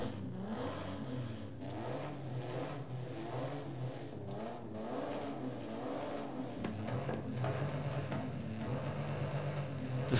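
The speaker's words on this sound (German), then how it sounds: "Das klingt schon wieder wie ein Diesel." A car engine in Forza Horizon 5 revs steadily for about ten seconds with a low, gruff diesel-like drone, climbing and easing in pitch and staying loud and close throughout.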